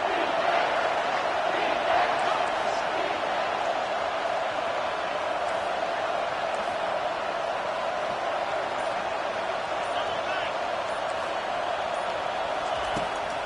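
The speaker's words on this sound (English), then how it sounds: "Big 3rd down as the crowd gets behind this defense." A football stadium crowd on a big third down makes a steady, dense roar that holds for the whole stretch, with no break in the broad wash of noise.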